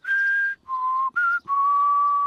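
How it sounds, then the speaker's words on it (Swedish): A person whistles clear sustained tones in four separate notes, alternating higher and lower pitch, close and alone with no talking. "Vissling kräver en massa träning."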